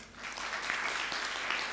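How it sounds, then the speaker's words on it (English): Brief burst of audience clapping at an awareness-week event, a dense, steady patter of many hands that continues briefly without any voices. "A better clap, please."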